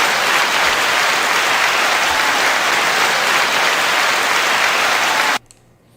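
Sustained, loud applause from a large audience, a steady wash of dense clapping that holds for over five seconds and then cuts off abruptly.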